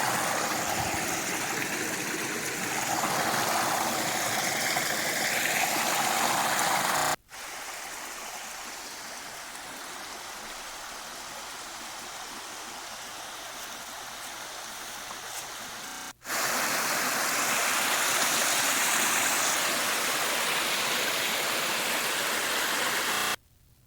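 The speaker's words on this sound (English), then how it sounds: "those are all different streams, different waterfalls" Steady rushing water from forest streams and waterfalls fills the scene, loud and continuous, with two abrupt shifts between nearer, fuller roaring flow and a slightly softer stretch.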